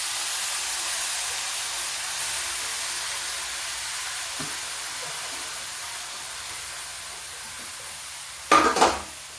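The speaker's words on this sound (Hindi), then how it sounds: "इसमें ये हम साग डाल देते हैं।" Fresh spinach greens dropped into a hot kadhai, a steady sizzling hiss through the whole stretch with a few faint stirring clinks and a sharp louder burst of spattering near the end.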